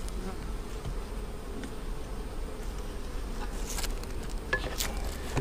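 Honey bees buzz around an open hive during a small fall honey harvest, a steady dense hum close by, with a few brief sharper buzzes as bees fly past near the end.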